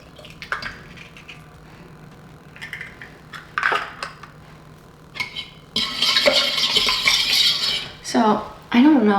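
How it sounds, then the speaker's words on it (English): A fork whisks liquid cinnamon roll ingredients in a bowl, clinking and sloshing in short bursts that build into a louder, sustained scraping stir near the end, close and without talk. "whilst I'm mixing the first ingredients that are really just like liquid, I'm just using a fork"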